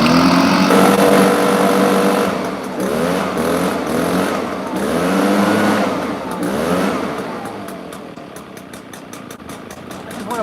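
A Honda lawn mower engine runs at a raised idle outdoors in snow, a steady close putter with slight swells in pace, briefly fluttering near the end.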